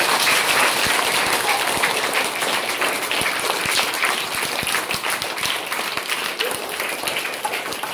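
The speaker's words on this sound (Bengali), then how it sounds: "আমাদের জন্য একটা হাততালি হয়ে যাবে।" An audience claps for a primary school students' play marking Kanyashree Day, a loud, sustained round of applause with individual sharp claps standing out near the recorder, tapering slightly toward the end.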